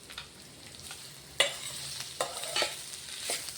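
Onion frying in a pan for a carrot dish, a steady soft sizzle with a few sharp scraping stirs of a utensil, fairly quiet and close, no voices.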